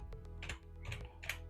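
Keys clatter on a computer keyboard as a command to install Docker on Ubuntu is typed: a few quick clusters of crisp, close clicks with brief pauses between them.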